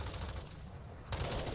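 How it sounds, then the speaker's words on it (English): Rapid gunfire in Call of Duty Warzone crackles in dense bursts, loud and close, easing briefly in the middle before another burst of shots. "I shot somebody, you guys!"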